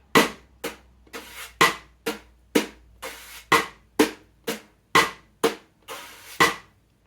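Brushes sweep and tap across a drum in a steady syncopated bossa nova pattern, each stroke a crisp swishing hit with short decays, played alone.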